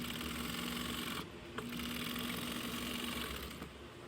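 A sewing machine fitted with a 1-inch binding attachment stitches binding onto Sunbrella fabric, a rapid steady mechanical whir with a brief pause partway, fairly quiet and without talk.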